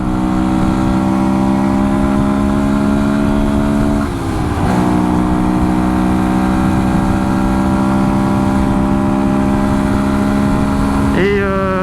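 A Beta 125 RR motorcycle ridden on the road gives a loud, steady engine drone with strong harmonic bands, dipping briefly as the rider shifts gears mid-run and rising sharply again at the end as the revs climb.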